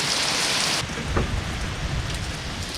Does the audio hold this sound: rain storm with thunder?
yes